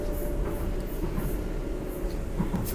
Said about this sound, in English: I love how the train sounds clickety clack